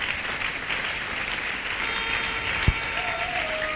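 Congregation applauding in a church, steady enthusiastic clapping that continues throughout, with a brief sharp knock near the end and a faint sustained tone underneath.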